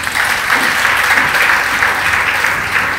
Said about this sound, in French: On applaudit pour les professeurs.